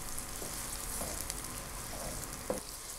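Chopped onions fry gently in a pan for a Pakistani chana dal gosht, giving a steady, moderate sizzle with a few soft stirring scrapes and no talking.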